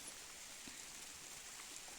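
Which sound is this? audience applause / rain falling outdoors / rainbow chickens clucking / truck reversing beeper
rain falling outdoors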